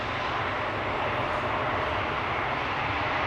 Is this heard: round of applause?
no